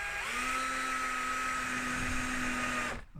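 A power screwdriver unscrewing a PVC skirting board: a steady, high motor whine with a strong ringing tone holds evenly for about three seconds, then cuts off abruptly.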